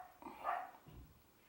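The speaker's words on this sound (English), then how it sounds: "Sorry if you can hear the barking dogs in the background." Dogs bark in the background indoors, a couple of short, muffled barks that are faint and distant, with no voices over them.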